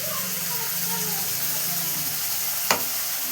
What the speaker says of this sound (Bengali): এবার মশলাটা দিয়ে দেবো কড়াইতে।